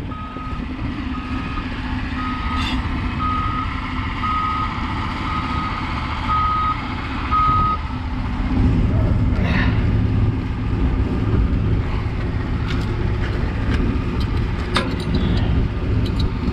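A truck's reversing alarm beeps steadily over a low idling engine, then the engine revs louder as the vehicle pulls away.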